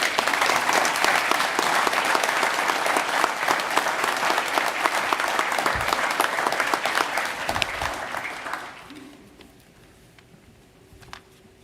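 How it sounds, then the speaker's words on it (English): Sustained audience applause at a police officers' basic course graduation ceremony, thick and even for about eight seconds before tapering off to a quiet room with a few stray sounds. "Let's give them all a round of applause."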